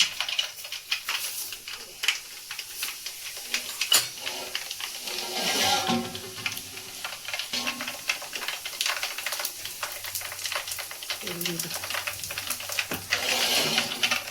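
Cumin seeds sizzling in hot oil while tempering a toor dal dish, giving a quiet, steady crackle of fine rapid pops and hiss that runs on throughout.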